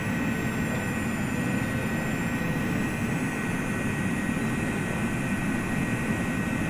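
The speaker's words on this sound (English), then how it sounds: "Definitely sounds a lot better with these new engines" Jet engines of an MD-83 airliner in Microsoft Flight Simulator 2020, heard as a steady, loud droning roar with a constant high whine over it.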